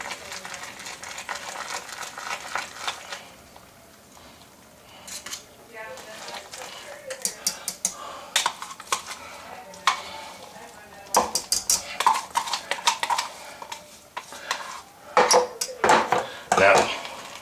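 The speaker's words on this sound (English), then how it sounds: "So I'm taking the roux, mixing it in." A roux being stirred into a seafood, sausage and corn chowder in a pot: scraping and clinking of a spoon against the pot, irregular and busier toward the end, with someone talking throughout.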